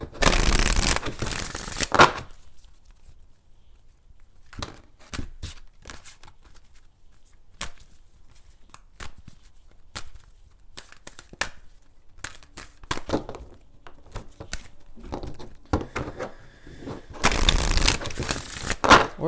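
Light Seers tarot cards being shuffled by hand in a few separate bursts of riffling and sliding, with louder flurries at the start and end and quieter card handling in between.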